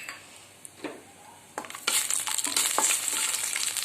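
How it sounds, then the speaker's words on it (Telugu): Cashew nuts frying in a kadai, a quiet start with a few scrapes, then a loud, steady hissing sizzle with spoon stirring taking over for the rest. "జీడిపప్పు ఫ్రై చేసుకోవాలి"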